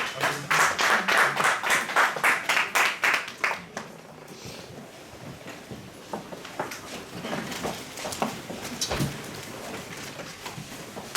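A church congregation claps in a fast, steady rhythm for a few seconds, loud and close, then the clapping stops and a quieter room murmur remains.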